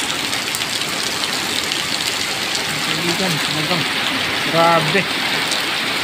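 Heavy typhoon rain from Typhoon Kristine pours down in a dense, steady hiss, with an engine idling underneath and a brief exclamation from a voice near the end.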